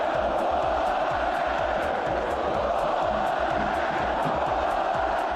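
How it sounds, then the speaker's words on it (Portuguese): A packed stadium crowd at a Corinthians vs Palmeiras football match shouts and chants continuously, a dense, loud roar with rhythmic pulses throughout. "E com o passar do tempo, os gritos eram inevitáveis."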